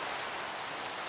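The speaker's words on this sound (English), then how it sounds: "You can see the rain reflecting off the ground" Rain in a realistic modded Minecraft world, a faint, even hiss of falling rain with no breaks and no voices over it.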